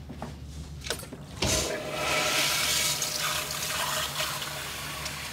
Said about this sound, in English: Did I just hear a toilet flush?